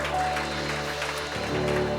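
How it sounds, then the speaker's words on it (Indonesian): A church congregation applauds in a sustained, even patter of many hands, with a low held musical tone underneath and faint voices mixed in. "Berikan tepuk tangan kita untuk Tuhan."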